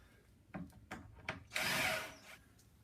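A power drill driving screws to fasten wooden furniture rails: three short bursts of the motor followed by a longer whirring run, close and fairly quiet.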